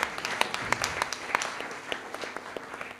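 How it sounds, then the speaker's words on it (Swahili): Church congregation at a night prayer vigil claps in a steady, moderately loud burst of applause, individual sharp claps standing out over a dense patter, with faint voices underneath. "Tumpige makofi sana"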